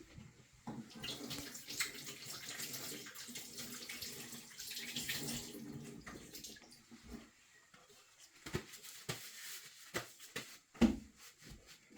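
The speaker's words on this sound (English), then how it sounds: "So let's wash my hands" Running tap water splashes over hands being washed at a kitchen sink before seasoning a whole jerk chicken, a steady close rush for about seven seconds, then quieter scattered splashes and drips.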